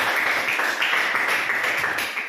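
Audience applause at an educational talk, steady dense clapping from a crowd that runs loud and even for a couple of seconds without talk.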